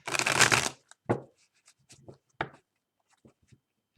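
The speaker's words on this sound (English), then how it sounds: "I know why I'm feeling so strong today to shuffle the card." Tarot cards shuffled by hand, a dense riffling burst in the first moment followed by a few sharper card snaps and soft taps that thin out, close and alone with no talking.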